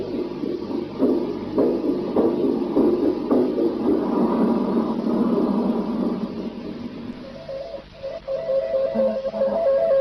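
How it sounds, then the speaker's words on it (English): Heartbeat and breathing attributed to a cosmonaut aboard a Russian spacecraft that crashed: a muffled, low, rumbling recording with soft rhythmic pulses under a hissy noise floor, and a faint wavering tone near the end. "Here we can hear what is allegedly the heartbeat and breathing of a cosmonaut"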